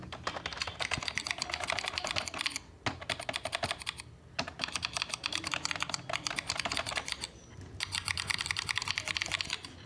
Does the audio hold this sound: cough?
no